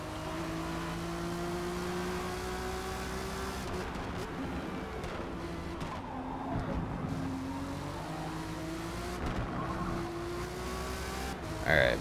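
Race cars on the Catalunya circuit in Forza Motorsport, engines whining and revving through gear changes with rising and falling pitch, other cars passing nearby, at moderate level with no talking.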